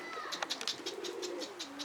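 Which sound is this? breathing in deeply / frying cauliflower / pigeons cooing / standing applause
pigeons cooing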